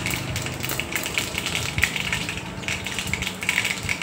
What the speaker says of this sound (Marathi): आणि हा जो आहे हा मस्त मोहरी तडतडल्याचा आवाज आहे.